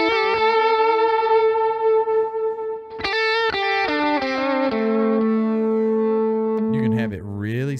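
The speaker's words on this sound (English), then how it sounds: "You can also do this with the delay." An electric guitar played through an Amplitube Brian May delay effect on iOS rings out in sustained, saturated distorted notes with repeating delayed echoes, shifting pitch through a short phrase, loud and alone.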